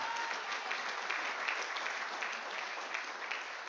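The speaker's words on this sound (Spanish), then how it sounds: "Dele un aplauso a Jesús que nos liberta." A church congregation applauds together in a steady, even wash of clapping, moderately loud and continuous throughout with no talk over it.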